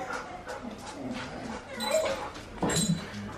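Groodle dogs whimper and yip softly indoors, a few faint, high whines scattered across the moment with quiet snuffling and a murmuring voice underneath.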